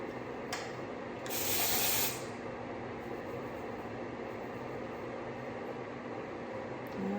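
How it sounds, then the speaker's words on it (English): A short hiss of dry shampoo sprayed onto hair, a burst of roughly a second standing out over steady background noise, with no talking. "I'm still going to take a little dry shampoo and give it some body"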